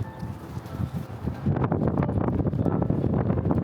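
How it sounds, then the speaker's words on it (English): Steady wind buffeting an outdoor microphone on a dog walk, rising into a louder, constant broadband rush after the first second and a half, with faint birdsong beneath and no talking. "Wind is really starting to pick up now."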